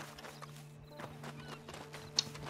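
A horse in the video game Red Dead Redemption 2 clip-clops with soft, fairly steady hoof steps over a quiet low hum, with one brief sharp click near the end.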